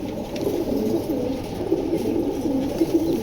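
Foreign pigeons, a breeding pair kept for sale, coo repeatedly in low rolling calls close by, overlapping one another against a faint background hum, with no talking.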